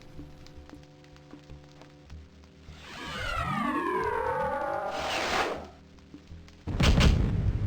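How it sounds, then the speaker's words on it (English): Explosion spell cast in the video game Ultima VIII: Pagan, a rising whooshing swirl of sweeping magical tones building for a few seconds over soft background music, then a loud burst near the end. "Explosion."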